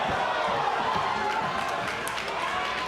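An arena crowd at a kickboxing event roars and cheers steadily after a spinning back kick in the Locke versus Dunfee bout, a dense continuous wash of noise with scattered shouts throughout.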